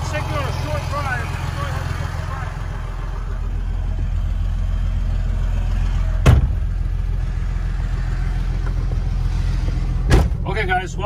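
A 2007 Dodge Ram pickup with the 5.9 engine drives along steadily, a deep continuous engine drone and road rumble throughout, with two brief thumps as it rolls over bumps.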